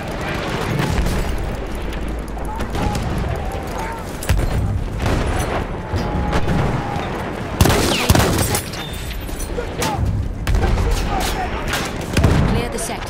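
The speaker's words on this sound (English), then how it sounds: "Grenade out! Watch your head!" A grenade explosion amid gunfire in a Battlefield 1 multiplayer match: continuous battlefield din with scattered shots, a sharp loud blast around the middle and further booms, and people talking over it at times.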